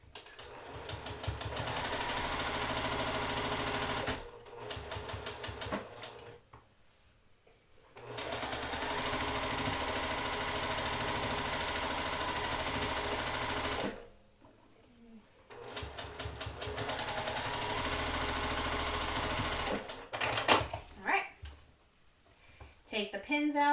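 A sewing machine stitches a pinned quilt block in long, steady runs of rapid rattling, pausing twice between stretches, with a voice talking quietly between runs.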